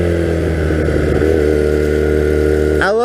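A 1982 Honda 250cc flat track motorcycle idles close by with a steady, throbbing tone, then blips its throttle in a quick rev near the end.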